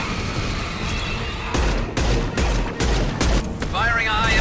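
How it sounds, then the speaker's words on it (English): Video game weapon fire: a series of loud, sharp booming shots in quick succession, with electronic tones and a character's voice between the blasts. "Firing a high-impact shot."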